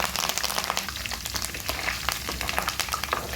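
Curry leaves crackle and sizzle in hot tempering oil with cumin, mustard seeds, chana dal and fenugreek seeds for an ivy gourd pickle. The steady, close frying hiss carries sharp pops throughout, with no talking.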